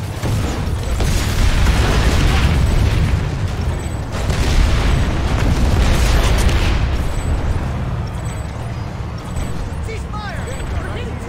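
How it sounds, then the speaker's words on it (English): Heavy booming blasts and rumbling explosions from Vanguard tanks in the video game Planetside 2, loud and repeated in thick low waves that roll on almost without pause. "I hear so many Vanguard tanks"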